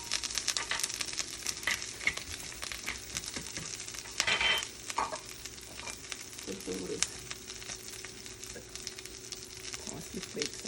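An omelette sizzles steadily in a frying pan, with a continuous crackle and small pops, stirring and scraping sounds, and a few soft clinks layered over the frying.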